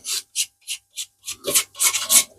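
Hand sanding of rust on car body panels, a series of about eight rasping strokes in a steady back-and-forth rhythm, close and fairly loud, with the later strokes growing longer and heavier.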